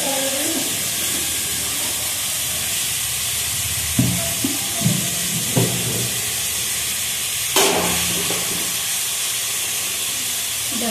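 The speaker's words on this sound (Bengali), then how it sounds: "দুটো লঙ্কা ভেজে দিয়ে দিচ্ছি" Two chillies fry in hot oil alongside poppy seeds, giving a constant hissing sizzle, close and fairly loud, broken by a handful of sharp utensil knocks and clinks, with no voices.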